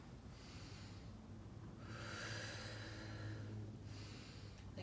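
A slow, audible exhale through the nose and mouth during a seated chair-yoga shoulder roll: breathy airflow rising and fading in two or three soft waves, close and quiet, with no speech.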